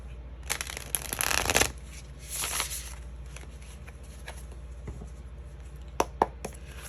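Tarot cards being shuffled by hand in two quick riffling bursts near the start, then a few soft isolated taps and flicks against a quiet background hum.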